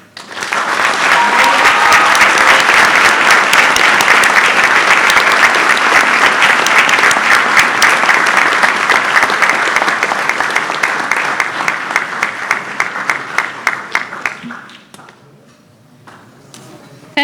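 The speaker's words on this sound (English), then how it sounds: "giving them a hearty round of applause" Audience at an engineering induction ceremony gives a long, loud round of applause, sustained and dense for many seconds before thinning out into scattered claps and fading into near quiet.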